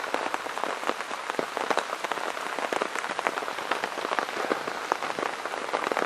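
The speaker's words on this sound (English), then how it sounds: "we're just sitting here enjoying the rain" Heavy rain drums densely and continuously on a tent during a solo overnight camp, a loud, close hiss of countless drops pattering with no letup.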